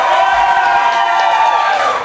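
A comedy club audience at the Miami Improv cheers and whoops for a comedian, a dense crowd roar of voices with scattered shouts, loud and sustained for the whole moment.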